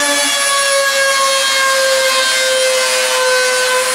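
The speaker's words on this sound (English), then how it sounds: "Make sure I polish the chamber real good." Polishing the chamber of a homemade rifle barrel produces a loud, steady, close-up high-pitched whine with sustained tonal ringing and a continuous abrasive hiss.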